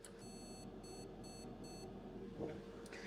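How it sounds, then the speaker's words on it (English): Four evenly spaced high electronic beeps from a computer motherboard, faint and thin over a low hum with a little handling noise. "So that's the beeping that I'm hearing."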